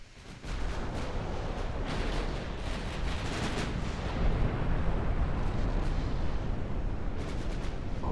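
Warship naval gunfire in the naval battle game Ultimate Admiral: Dreadnoughts, a dense continuous roar of booming cannon shots and rumbling blasts, loud and sustained throughout with no voices.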